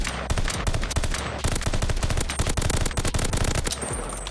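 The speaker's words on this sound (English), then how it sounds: "You can actually shoot through the like the wall." Automatic weapon fire in Call of Duty Vanguard, shooting through a wall: loud, rapid bursts of gunshots that rattle almost nonstop, with brief gaps between volleys.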